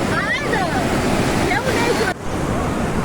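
A steady, close roar of surf washing over the beach at Puri, constant throughout, with faint voices of bathers drifting in the background.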